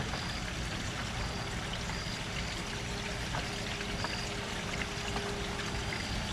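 Water rushes steadily through an Oase Biotec Screenmatic 24000 filter on a koi pond, a constant broadband flow with a faint trickle and no voices throughout.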